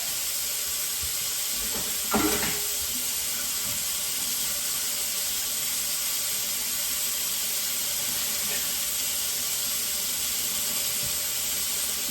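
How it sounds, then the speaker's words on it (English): Tomato and rice sizzle steadily in a hot pan for Mexican rice, a constant bright hiss with a brief clatter near the start and no talking. "You guys hear it sizzling."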